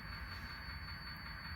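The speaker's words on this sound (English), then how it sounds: "You can start the train running" A digitally controlled model train runs on a 1970s Milwaukee Road branch layout, giving a quiet, steady motor hum with a thin high whine over the short stretch.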